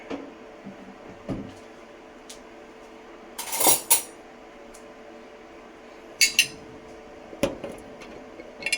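A utensil stirs sauce in a dish, giving a few sparse, quiet clinks and scrapes of metal on crockery with long pauses between them.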